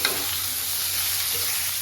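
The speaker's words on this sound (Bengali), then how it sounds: "এবার আমি একটু ডাঁটাগুলো হালকা নাড়াচাড়া করে নিয়ে" Thin drumstick stems frying in a pan with potatoes and mustard, a continuous close sizzle with gentle stirring, steady and fairly loud, no voices.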